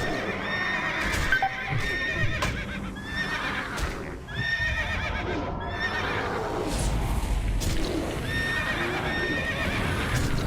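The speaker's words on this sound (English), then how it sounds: "infinite horse sounds over here" A horse in a video game whinnies loudly several times, close by, over a steady clip-clop of hooves.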